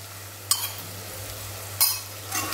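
Cauliflower and peas with ginger, garlic and chilli sizzle softly in a pan under a steady low hum, while a utensil scrapes and stirs them in three quick bursts.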